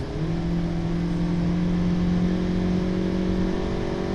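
A Toyota Yaris 1.33 accelerating with an automatic gearbox, heard from inside as a steady, moderately loud engine drone with a smoothly held hum and no voices.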